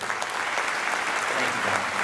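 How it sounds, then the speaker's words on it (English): Steady applause from an audience at the 2021 Akron State of the City address, a dense continuous patter of many hands clapping for about two seconds with no talk over it. "I'd like to give all of you a round of applause, too."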